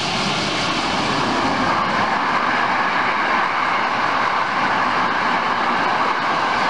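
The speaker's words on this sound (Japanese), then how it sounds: "ちょうど今、電車が通っていたところですけれども" A commuter train rumbles past near a level crossing by Mukonoso Station in Amagasaki, a loud, steady roar of wheels and cars that holds for several seconds without any talking.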